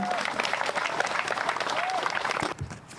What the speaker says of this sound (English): So, please put a big round of applause to John Butler.